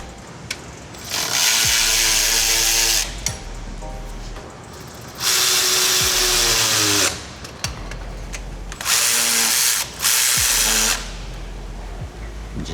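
Power tool driving bolts during a Kia Sorento 2.4L engine install, three loud whirring bursts of a few seconds each, separated by quieter pauses with clinks of metal, close up.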